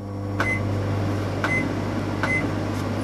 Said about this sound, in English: I'm going to pop the microwave on